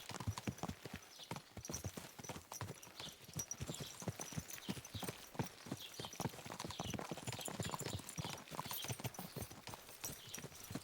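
Rapid, steady clip-clop of horse hooves in the video game Kingdom Come: Deliverance 2, close and continuous at a trotting rhythm, with a faint bustle of background activity.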